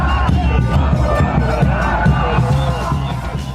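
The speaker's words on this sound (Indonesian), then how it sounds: "Sorak-sorai menggema di Bogota, Kolombia saat Los Cafeteros memastikan langkah ke babak 32 besar Piala Dunia 2026" Football fans in Bogota, Colombia, cheering and chanting after Colombia's World Cup win, a dense, loud crowd roar with rhythmic shouted chants and whoops, close and continuous throughout.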